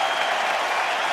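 A Paris tennis crowd applauds, a dense, steady wash of clapping that fills the whole moment with no break.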